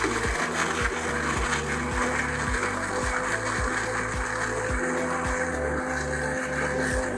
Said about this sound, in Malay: Kita blender sehingga hancur.